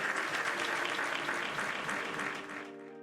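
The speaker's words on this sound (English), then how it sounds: "That's us applauding to the skies." Sustained applause from a group fills the space with dense, even clapping that begins to taper off near the end as a soft musical tone lingers underneath.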